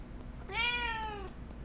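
A single clear cat meow, drawn out and slightly falling in pitch, rises over a quiet room hum with no one speaking.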